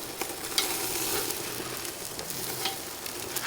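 Steak sears in a hot pan just after being flipped, giving a continuous close sizzle with scattered sharp crackles and pops.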